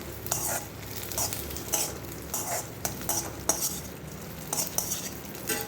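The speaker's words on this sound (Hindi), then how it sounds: "बस अब इसको बिल्कुल हल्का सा धीमी आंच में हम सेक लेंगे।" Charoli seeds with black raisins being roasted in a kadai over a low flame, a spoon repeatedly scraping and tapping the pan in an irregular rhythm under a faint sizzle, close and soft, nobody talking.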